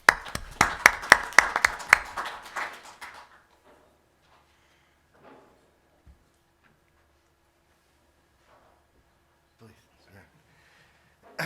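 Audience applause welcoming speaker Matt Sanderson to the podium at a water conservation talk: dense, loud clapping for about three seconds, then fading into a quiet room with a few faint shuffles and small knocks.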